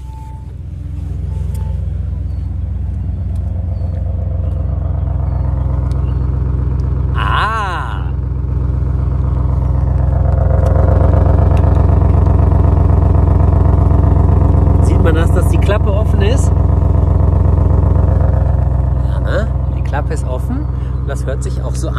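The deep V8 engine of an Audi RS6 Avant idles loudly up close, its low rumble swelling as it revs, with a voice speaking over it partway through.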